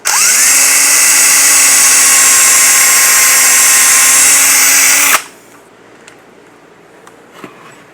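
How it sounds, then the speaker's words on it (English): A power drill pre-drills into the end of a shelf, running loud and steady for about five seconds with a slight rise in pitch as it spins up, then stops abruptly, leaving faint handling clicks. "I'm going to pre-drill into the end."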